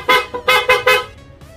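Four short, bright blasts from a PIA horn on a Honda Click scooter in quick succession, loud and close, with a brief pause between the first and the rest.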